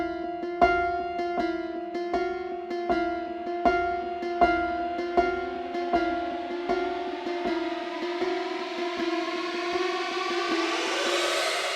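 A movie-trailer intro built in Serum: repeated accented piano and guitar cluster hits pulse evenly, then a Horrorizer synth swells in with a rising, brightening siren-like drone, all instrumental and without voices.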